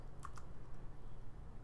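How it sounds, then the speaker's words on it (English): Keys on a Mac computer keyboard are pressed, two quick, faint clicks close together near the start, then only quiet room hum. "let's press R on the keyboard to set up a recording track"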